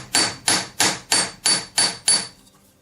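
A hammer taps a metal solitaire ring seven times in a steady, even rhythm, each strike sharp and ringing close up, then the sound fades to quiet.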